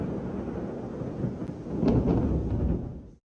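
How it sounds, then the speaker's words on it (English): Thunder during a heavy storm in Shenzhen: a deep continuous rumble that swells midway into a louder rolling peak before fading abruptly, with rain-like hiss underneath and no voices. "This is a nightmare scene of lightning and thunder in Shenzhen."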